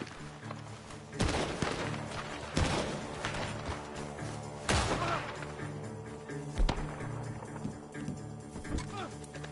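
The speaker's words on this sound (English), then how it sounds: "The gunshots are coming from that barn." Video game gunfire comes from a barn: sharp, irregular shots and bursts crack out several times, mixed with game ambience and horse-like hoofbeats, while a player speaks.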